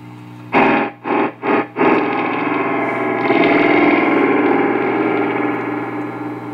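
A Lafayette/Univox U65RN solid state amp puts out a loud, distorted tone through its reverb, with a few choppy bursts at the start before a sustained, washy, ringing sound that slowly fades.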